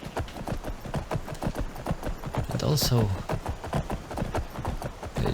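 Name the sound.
horses clip-clopping at a farm in a video game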